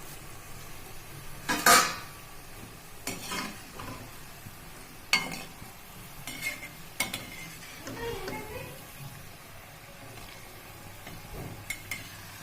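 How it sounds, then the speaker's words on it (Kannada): Maida butter biscuit dough goes into hot oil, with scattered clinks of utensils against a pan over a soft sizzle at close range. "ಈ ಟೈಪು ಮಾಡಿಕೊಂಡು ಎಣ್ಣೆಯಲ್ಲಿ ಬಿಡಬೇಕು"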